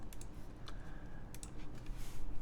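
A Zoom75 TIGA custom mechanical keyboard built with BakenekoGO switches is typed on, a quick run of light, close clicking keystrokes over a low background hum.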